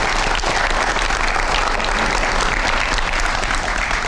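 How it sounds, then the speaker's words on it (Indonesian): A studio audience on a TV talk show applauds steadily, a dense, loud, even wash of many clapping hands that holds for the whole stretch without a break. "Kita kasih tepuk tangan buat Bang Elman."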